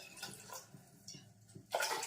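Water poured onto a mix of rice and lentils for khichdi, heard as soft close splashing that swells into a louder rushing pour near the end, with no talk.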